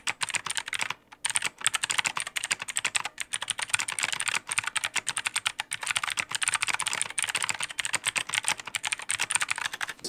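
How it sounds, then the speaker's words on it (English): Rapid, clicky typing on a cheap stock mechanical keyboard with blue switches, continuous and close up, with crisp individual keystrokes and a brief pause near the start. "this is how the keyboard sounded when it was straight out of the box"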